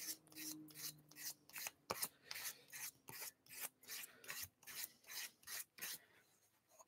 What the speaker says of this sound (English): 400 grit, I can just literally do a hand weight. Pull it down in the grain direction.